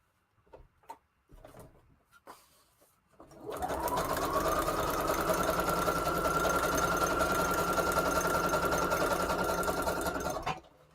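A few soft knocks and clicks, then a sewing machine starts up and runs steadily at a fast, even whir for several seconds before stopping.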